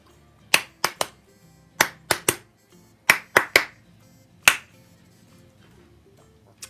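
Sharp claps or snaps sound alone as a counting challenge, falling in uneven clusters of two and three, eight or nine crisp hits in all. Each is close and loud, with quiet gaps between the groups.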